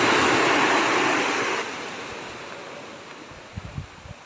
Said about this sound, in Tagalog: Lumakas ang dagat